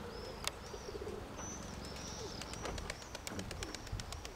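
Pigeons cooing softly amid outdoor ambience, with scattered high chirps and a few sharp clicks or wing flutters, fairly faint.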